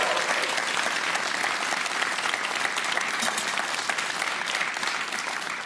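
A studio audience at a German televised cooking competition applauds a contestant with steady, dense clapping, close and loud, sustained evenly throughout without a break.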